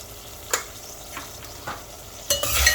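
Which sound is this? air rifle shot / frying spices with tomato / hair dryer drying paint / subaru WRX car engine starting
frying spices with tomato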